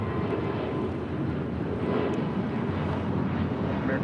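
An Emirates Airbus A380 rolls for takeoff at LAX, a distant, steady low jet rumble and roar holding even throughout, with no talk over it.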